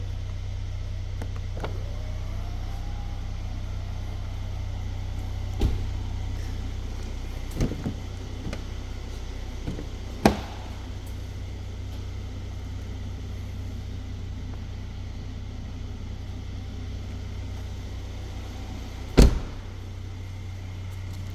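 The electric tailgate of a 2016 Mercedes-Benz GLS 400 4Matic works with a low steady motor hum, punctuated by a few soft clicks and a sharper latch thunk near the end.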